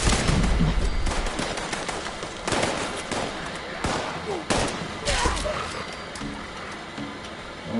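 Raiders attacking in the video game Fallout 76, with loud, dense bursts of gunfire and explosive cracks filling the whole stretch, close and continuous.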